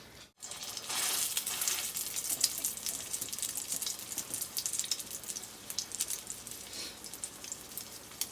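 Salmon patties fry in a pan, a bright crackling sizzle that starts abruptly after a brief silence and keeps popping irregularly at moderate loudness, with no talk.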